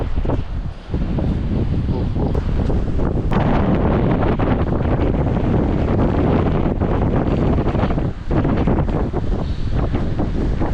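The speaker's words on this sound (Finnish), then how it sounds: "Täällä sataa niinku ihan täysiältä. Tuulee kylmä tuuli ja" Strong, steady wind of about 20 m/s buffeting the microphone outdoors during a storm, a constant loud roar with gusty surges; cold heavy rain may be mixed in but is hard to pick out.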